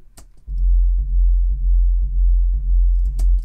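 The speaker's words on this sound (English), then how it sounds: "And the bass sounds like this." A heavy, deep synthesized bass for an electronic drop pulses about every half second in a regular rhythm, each note landing just after a sharp kick hit, loud and booming with no talking.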